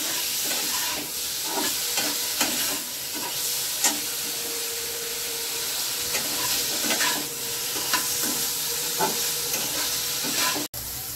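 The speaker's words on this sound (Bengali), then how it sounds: "নুন, হলুদ, সামান্য লাল লঙ্কার গুঁড়ো দিয়ে পনিরটাকে ভালো করে ভেজে নেব।" Paneer frying in a pan with salt, turmeric and a little red chilli powder, giving a loud, continuous hissing sizzle with steady stirring clicks and scrapes throughout.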